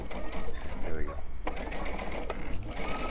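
A sewing machine runs a lock stitch and then straight stitching on a stuffed elephant toy, its steady mechanical whir continuous and close, with someone talking over it throughout.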